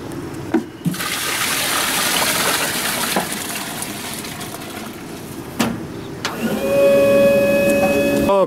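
Milk pours and gushes steadily into a collection tank during daily pickup from a dairy producer. The flow is close and continuous, with brief knocks, and a machine whine and beeps near the end.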